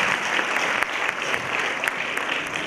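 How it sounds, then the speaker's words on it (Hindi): Sustained applause from an audience at an Islamic quiz contest, many hands clapping in a dense, even roar with a few sharper individual claps standing out, and no talking over it. "जोरदार तालियां चाहूंगा मैं।"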